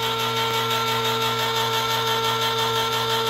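An electric can opener runs in a steady, loud mechanical whir with a constant pitch for about three seconds while it opens a 30-ounce can of pure pumpkin.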